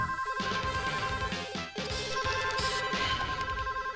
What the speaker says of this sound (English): Just not gonna answer that phone.